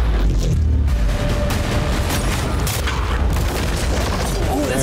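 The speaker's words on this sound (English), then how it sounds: "All right, Sean, we're about to fire the cannons at your new yacht" Cannons firing cannonballs at a new yacht, with shots tearing through storage containers: loud, continuous booming and crashing impacts fill the whole stretch, dense and close, with no pauses between blasts.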